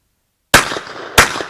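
A Ruger Red Label shotgun fires at clay targets outdoors, two sharp, loud close blasts about two thirds of a second apart after a moment of silence, each followed by a short ringing tail.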